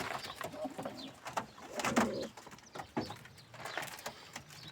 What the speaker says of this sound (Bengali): আসলে অনেকগুলো কবুতর হয়েছে,